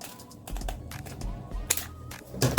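Scissors cutting along a fabric circle for a circle skirt: short crisp snips and slicing strokes repeat close up, with a brief louder rustle of the cloth at the end.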